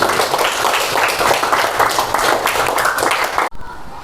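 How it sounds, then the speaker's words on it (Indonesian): A classroom of students applauding together, dense and energetic clapping that runs steadily and then cuts off abruptly near the end. "Ya, tepuk tangan sekali lagi."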